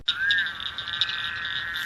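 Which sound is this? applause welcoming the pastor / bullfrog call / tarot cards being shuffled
bullfrog call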